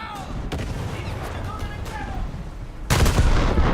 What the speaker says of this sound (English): I think the LS3 is now trying to artillery me